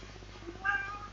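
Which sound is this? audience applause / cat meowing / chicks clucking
cat meowing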